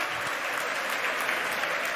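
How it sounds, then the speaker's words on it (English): A crowd at Starbase applauds and cheers for a SpaceX Super Heavy booster landing, a dense, continuous wash of clapping at moderate distance with no distinct talk on top. "I have a feeling the crowd's about to go wild here."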